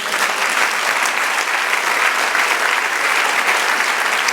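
A church congregation applauds together, loud and sustained, a dense even wash of clapping from many hands that holds steady for more than four seconds.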